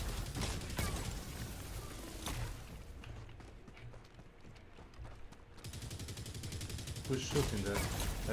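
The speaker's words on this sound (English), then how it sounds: "Who's shooting there? They're shooting at you?" Gunfire in a video game, rapid bursts and scattered shots crackling throughout, loud and dense with a brief thinner stretch midway, while voices talk over it.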